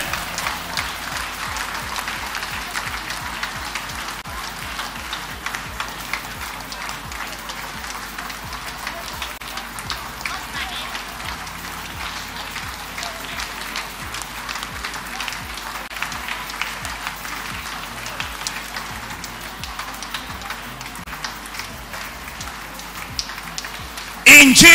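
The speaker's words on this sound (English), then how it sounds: "Clap your hands and pray." A church congregation clapping their hands during prayer, a dense, continuous patter of many hands at an even level for most of the stretch, with a brief louder burst at the very end.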